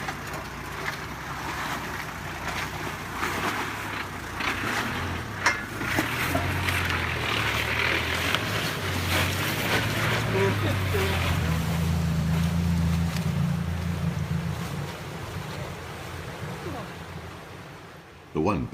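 4WD cars ford the Pascoe River crossing on Cape York, making a low engine drone and a continuous watery wash and churn that swells midway and then fades, as if vehicles push through and move off.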